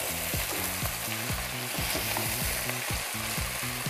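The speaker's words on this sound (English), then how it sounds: "Now, after putting the celery, give it a quick stir." Celery frying in a pot of hot oil with cloves, stirred briskly so the sizzle surges in quick rhythmic scrapes, loud and close, with no one speaking.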